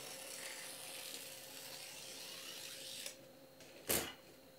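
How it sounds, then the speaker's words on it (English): A mechanism driven by a stepper motor and timing belt moves a razor blade that cuts a paper strip from a world map. A steady, faint mechanical whir runs throughout and ends in a short sharp clack. "Driven by a stepper motor via a timing belt, the blade cuts an approximately 1cm wide strip from the world map from left to right every half an hour"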